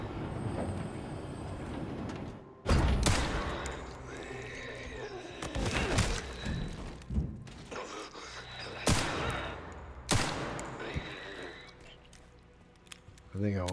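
Gunfire in the video game Resident Evil Requiem, several loud sharp shots spaced seconds apart over tense in-game ambience, with a player's voice talking between them.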